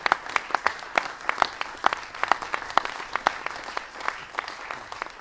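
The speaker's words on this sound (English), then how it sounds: "a big round of applause for Andrew." Audience applause at an annual dinner for a gentlemen's gathering: steady, fairly distant clapping from a room full of people, with sharp individual claps standing out against the continuous patter and no talking.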